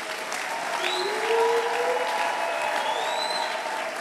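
A church congregation applauds at a French-language worship service, with steady, dense clapping throughout, some voices and whistle-like tones rising over it.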